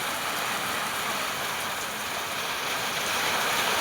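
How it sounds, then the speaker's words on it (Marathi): Heavy monsoon rain pours over a home courtyard as a dense, even hiss, loud and unbroken from start to finish, with no voices. "एवढा भारी पाऊस पडतोय ना,"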